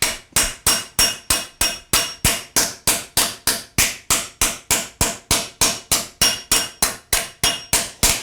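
Steady, rapid hammer blows on hot steel during the forging of a barbecue spoon, about three strikes per second, each a sharp ringing clank with a short decay, close and loud with no talk.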